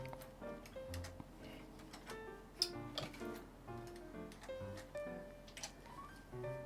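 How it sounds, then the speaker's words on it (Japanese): A sewing machine turned slowly by hand while stitching a small round fabric pouch near its zipper makes soft, uneven mechanical ticks and clicks at a slow pace, quiet over faint background tones. "ミシンは手で動かして"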